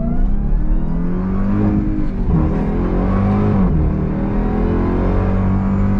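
A 2024 Dodge Durango SRT Hellcat SUV's supercharged engine revs loudly and continuously up close, its deep rumble rising and falling in pitch as it accelerates, with no voices present.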